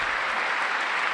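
Applause from a political audience at a State of the Union speech, a dense, steady clatter of many hands clapping close by, sustained at an even level without a break.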